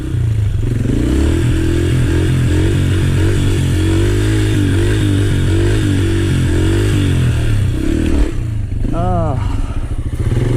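A motorcycle engine runs steadily and loudly throughout wheelie practice, with some rising revs and clatter toward the end, while a rider talks over it.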